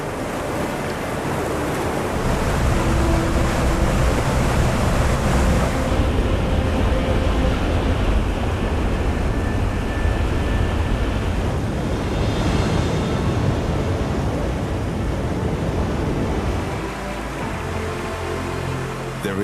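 A raging waterfall in the Nordic wild gives a relentless, thundering roar of cascading water, loud and broadband, holding steady for the whole stretch with no voices.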